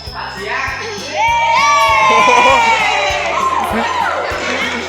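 Crowd of students cheering and shouting at a school student council election, a loud sustained mass of young voices with rising whoops and yells, steady throughout with a low drum-like pulse underneath.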